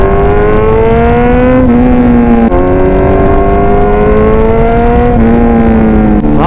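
A Kawasaki Z900 motorcycle held in low gear, its engine droning loud and close with a steady, rising tone, broken by brief dips as it shifts; no talking.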